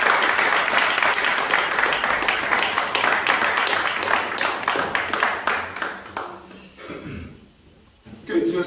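A church congregation breaks into sustained applause and cheering for the Lord, a dense wash of clapping that fades toward the end before a brief swell returns, with voices mixed in.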